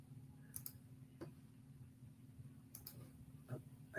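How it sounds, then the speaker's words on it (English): A computer mouse clicks a few times in a quiet room over a low steady hum, each click short, light and faint, spaced irregularly with no talking. "if I click here on our virtual tour icon"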